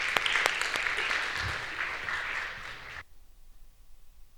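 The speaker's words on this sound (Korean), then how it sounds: "우리 홉팀 한번 박수로 격려하면서 맞이하면 좋겠습니다" A church youth-service congregation claps to welcome a team performing a Christmas cantata. Lively, close applause with a few sharp individual claps lasts about three seconds, then stops abruptly into near silence.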